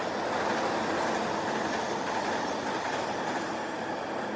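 New York subway train in motion, a constant loud rumble of wheels on track with rattling and faint squealing, heard from inside the car with no voices.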